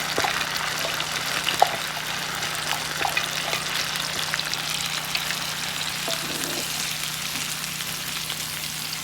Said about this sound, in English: We're going to saute this on medium heat for probably about 15 minutes